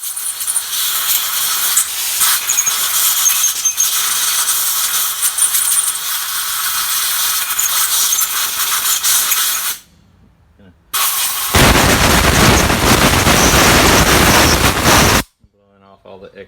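Compressed air blasting through carburetor parts on a leaking Shovelhead motorcycle, a loud sustained hiss for about ten seconds, a brief pause, then a second rougher, louder burst of several seconds.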